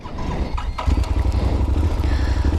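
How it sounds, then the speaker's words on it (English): A motorcycle engine runs near idle with the bike already in first gear, a loud, steady low rumble that thickens and holds after a short rise near the start, with no talking. "So the bike will be in first gear already."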